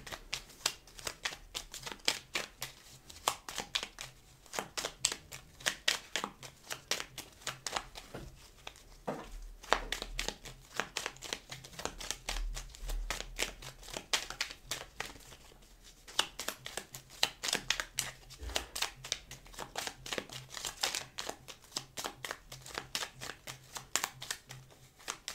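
A deck of cards is shuffled and cut for a sentimental card reading, a long run of quick riffling flutters and soft slaps repeating in close bursts with no talking.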